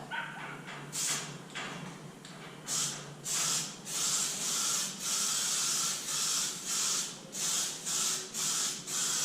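Spray gun applying primer surfacer to a Honda CBR250R MC19 fuel tank in repeated hissing passes, short bursts at first and then longer rhythmic sweeps, close and steady.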